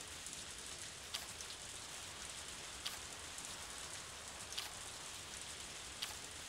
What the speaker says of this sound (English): Everyone hates the rain.